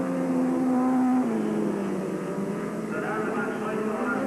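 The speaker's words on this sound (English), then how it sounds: "Indeed, it looks good for Hudson now. The race leader in this Avon Supernational final here at Skegness Stadium." F2 stock cars race around the Skegness Stadium oval in the 1984 Avon Supernational final, their engines droning and shifting pitch without a break from start to end, loud and close.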